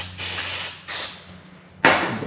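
Three loud, close hissing bursts from an aerosol can of contact cleaner, with short pauses between them.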